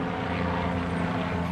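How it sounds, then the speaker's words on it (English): King County Guardian 1 police helicopter over Lake Washington in Seattle during a chase, a continuous loud rotor and engine drone without voices. "the King County Guardian 1 helicopter is overhead"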